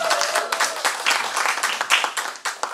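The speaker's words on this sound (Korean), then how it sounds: "박수 부탁드립니다" Audience clapping in a studio at a live Korean talk show as a guest author from Busan is welcomed, close and fairly brisk with uneven bursts, brief and without voices over it.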